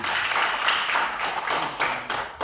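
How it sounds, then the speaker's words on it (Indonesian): A fifth-grade primary school class claps together, a lively burst of many hands with pulsing swells, close and fairly loud, with no voices over it. "kita semua tepuk tangan"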